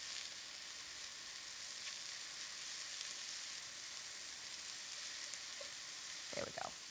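Big mushrooms sizzle steadily in a hot pan, a soft continuous frying hiss with a brief clatter near the end.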